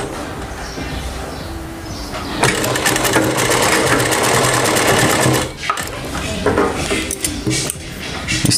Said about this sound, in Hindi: यहाँ से हमें सिलाई स्टार्ट करना है ऐसे। इस तरीके से हम सिलाई लगा देंगे।